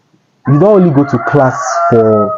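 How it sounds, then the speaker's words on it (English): Chickens cluck and a rooster crows outdoors in the background, with a drawn-out crow heard near the end of the moment, while someone talks loudly over them close to the mic. "pardon the birds and the sounds of the chicken"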